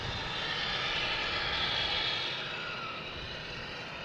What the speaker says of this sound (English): Oh, we have an American Airlines landing from Charlotte.